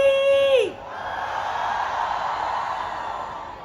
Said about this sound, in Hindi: आप देख सकते हैं यहाँ पर भीड़ खचाखच भरी हुई है एंड क्राउड का शोर जो बहुत ज़्यादा है